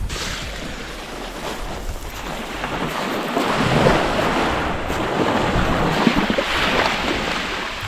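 Black Sea waves washing onto a beach, a continuous broad roar of surf mixed with heavy wind buffeting the microphone, loud and steady throughout with no talking.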